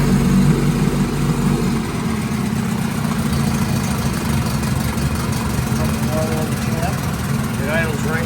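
A restored 1954 Johnson CD-11 5.5hp outboard motor idles in a test tank with a steady, low, loud putter that runs without a break through the whole stretch.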